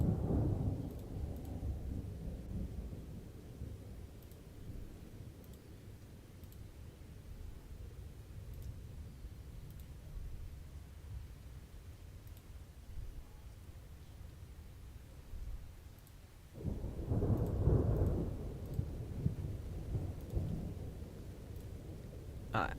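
A night thunderstorm with rain sets a soft, continuous wash of rainfall that rises into a louder rumbling swell of thunder near the end, heard alone without talk.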